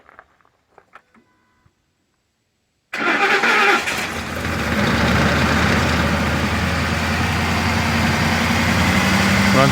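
A Ford 5.4 liter V8 truck engine cranks and fires after a few faint clicks and taps, then settles into a loud, steady idle that sounds a little rough at first, close by.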